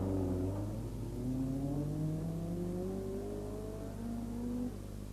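A Fiat rally car on the 1981 Circuit of Ireland Rally drives past, its mid-pitched engine droning and shifting pitch as it revs up through the gears, heard at a moderate distance over a steady low background rumble.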